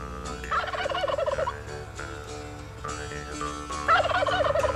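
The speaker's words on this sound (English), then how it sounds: "Hopefully, when she does that, he will respond with a gobble." A wild turkey gobbles several times over a steady musical background, fairly faint and somewhat distant, the rolling calls coming in short bursts.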